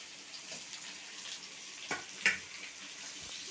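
Onions frying in a pan for a silver carp fish curry, giving a soft, continuous hissing sizzle with a couple of brief louder crackles, and no talking.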